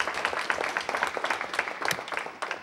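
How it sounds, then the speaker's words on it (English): Council meeting audience claps in a round of applause, individual claps distinct and uneven, moderately quiet and irregular, tapering off toward the end. "So everyone, again, please give them a round of applause"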